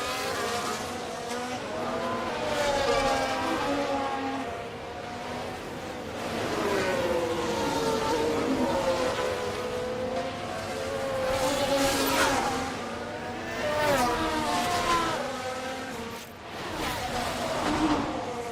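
Race cars in the video game F1 Manager 2024 during the Dutch Grand Prix: engines whine and rise and fall steadily as cars pass in waves, with a continuous loud high-revving drone throughout.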